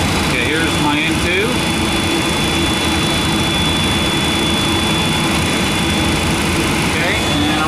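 An MD-10 jet engine spools up during start in the cockpit, a loud, continuous roar and whine with rising tonal sweeps, steady and close, with no speech over it.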